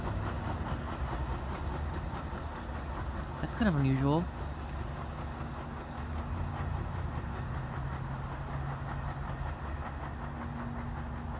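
Two multilevel commuter trains passing at Westfield, New Jersey, a steady loud rumble throughout with a brief rising horn-like tone near the middle, while a person talks over it.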